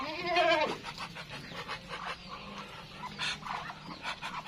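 A goat lets out one loud quavering bleat near the start, then softer bleats and scattered animal calls follow in a busy farmyard.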